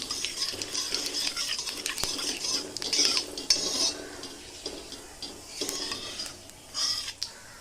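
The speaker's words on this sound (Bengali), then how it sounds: "পাঁচ ফোড়নটা দিয়ে আমি একটু ভেজে নেব" Panch phoron spices frying in a little oil in a pan, with a steady sizzle under repeated metal-on-metal scraping and clinks of a spoon stirring, close and continuous with no talk.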